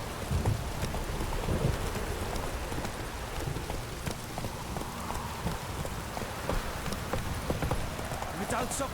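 Steady rainfall patters throughout with a soft low rumble of thunder in The Witcher 3: Wild Hunt, broadband and continuous, with occasional clip-clop-like taps mixed in.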